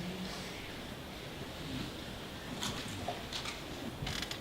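Steady wind buffeting a microphone at an outdoor memorial gathering, a continuous low rumble and hiss with a few sharper gusts toward the end, and no voices.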